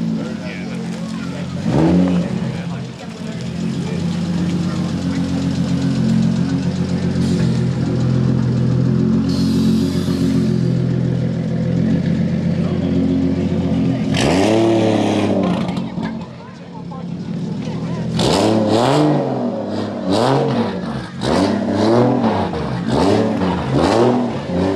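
A yellow Honda NSX idles steadily, then revs in a few rising bursts toward the end. Someone talks over the engine at a busy car gathering.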